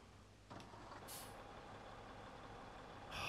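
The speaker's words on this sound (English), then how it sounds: "listen to that engine noise." A truck engine runs steadily at close range, a low droning rumble with brief hissing bursts over it, ending a little louder.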